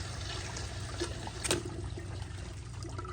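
A 1997 Kohler Dexter urinal flushes with water rushing steadily through the fixture, a continuous close splashing flow marked by one brief sharper gush partway through.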